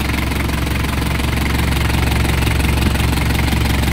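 A diesel engine on a surplus Japanese Isuzu Elf 10-foot truck runs steadily nearby with a loud, even rumble and a rough, knocking clatter, with no talk over it.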